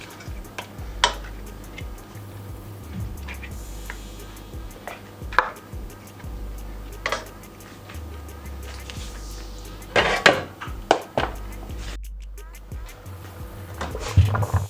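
A spoon stirs a pot of tilapia fish and plantain pepper soup, and then a lid goes on. Scattered close metallic clanks and scrapes sound over a low steady hum, with quieter stretches between them.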